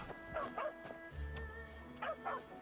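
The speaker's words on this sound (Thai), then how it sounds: "หมามันเห่าผมเลย" A dog barks in a short burst of yips and woofs near a bridge in Kaifeng city in the game Where Winds Meet, a few sharp barks over quiet ambient game sound.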